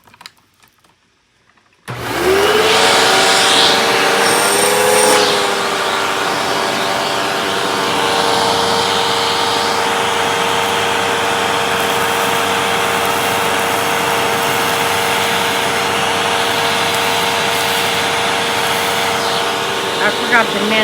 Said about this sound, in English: a test of the hose again, of the stuff that came out of the canister from me vacuuming up from cleaning this thing